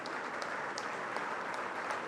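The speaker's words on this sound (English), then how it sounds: "Please rise for the rest of the faculty, for they deserve your applause." A convocation audience at IIM Kozhikode gives the faculty a standing ovation, producing dense, steady applause that holds at an even level throughout with no talk.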